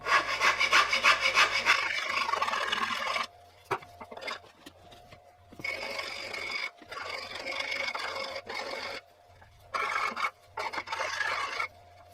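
A hand file rasps along a wooden dussack, a HEMA training sword, in bursts of steady scraping strokes with short pauses between them, close and fairly loud with no voices.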